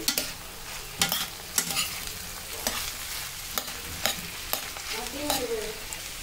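Cut bitter gourd pieces frying in a pan as they are stirred, with a low sizzle under repeated sharp spoon scrapes and taps about once a second, close and without talk.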